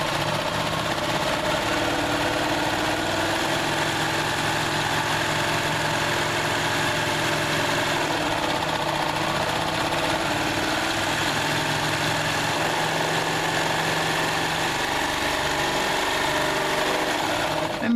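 An overlocking serger runs steadily, its blade trimming fabric edges while sewing backpack panels, a continuous mid-pitched motor hum with fine rattling that stays even and close throughout.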